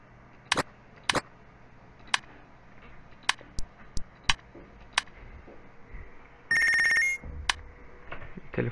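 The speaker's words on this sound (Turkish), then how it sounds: "telefon geldi." A telephone rings in the Punch Club video game, loud electronic ringtone bursts recurring through the clip, alongside several sharp clicks and ticks and one sustained buzzing ring near the end, with no talking.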